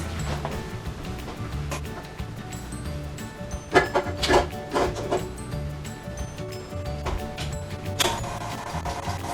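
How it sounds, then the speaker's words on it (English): Electric mixer running on low speed through pumpkin cupcake batter, a steady whirring hum with a few louder knocks and scrapes against the bowl, no voices. "they want you to mix the batter on a low speed"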